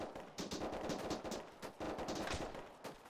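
Rapid gunfire in the video game Arma 3, quiet, dense bursts of automatic shots with short gaps between them, sounding somewhat distant.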